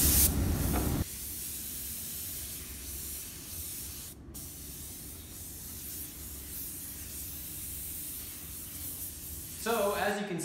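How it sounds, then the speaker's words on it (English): A spray gun hisses in long, steady passes as base coat paint is applied around the edges of a car panel, with a louder burst at the start and again at the end. "Now I'm gonna just go in and spot in the base coat right around the edges here."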